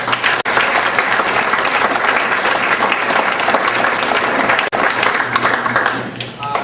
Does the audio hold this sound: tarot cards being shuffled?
no